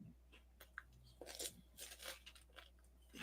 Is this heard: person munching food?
yes